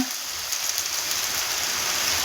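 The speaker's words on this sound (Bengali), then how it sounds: "বাইরে বৃষ্টি এসে গেল, জোর বৃষ্টি পড়ছে বন্ধুরা" Heavy rain pours down in a dense, even hiss that holds steady throughout, with no voices.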